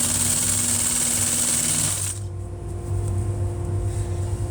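An industrial sewing machine stitches welt trim onto furniture upholstery, a loud continuous close-up motor drone whose pitch drops as it slows partway through.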